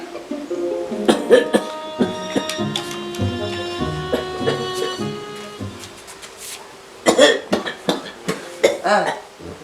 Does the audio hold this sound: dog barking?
no